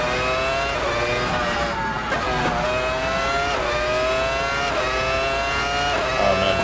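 A V10 race car engine in Assetto Corsa howls at high revs, with stepped gear changes and rising and falling pitch, loud and continuous with no talk.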